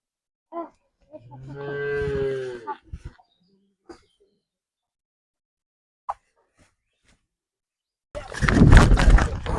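A large Friesian cow at a rural cattle market in Joypurhat lets out one long, loud, deep moo. A few scattered knocks follow, then a sudden burst of rough noise close by.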